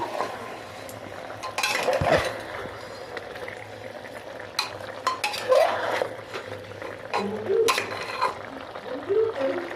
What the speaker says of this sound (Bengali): এবার আমি ভালো করে নেড়ে নেব এবার আমি নেড়ে নিচ্ছি